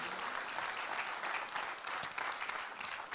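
An audience applauds Arthur Keller at a conference opening, a steady wash of many hands clapping at low volume with a few sharper claps standing out.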